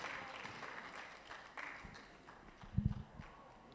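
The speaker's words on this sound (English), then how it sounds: "So please give a big round of applause for Dr. Victoria Anib as she makes her way to the front." Applause from a conference audience greeting a speaker walking to the front at a youth peace and security conference, a brief patter of clapping with a few louder claps near the end.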